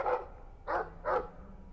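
Dog barks in Dragon Age 2, three short bursts spaced roughly half a second apart, moderately loud with no one talking over them.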